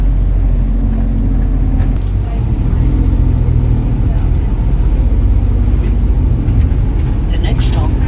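A Metrobus Volvo B7RLE with Wright Eclipse 2 bodywork runs on route 400, its engine a loud, steady low drone with a voice heard over it.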